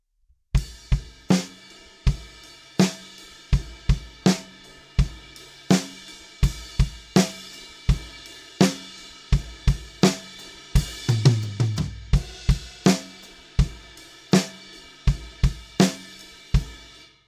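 A drum kit plays a song's groove, with steady kick and snare backbeats on two and four under ride cymbal, a fill around the middle, played alone and close.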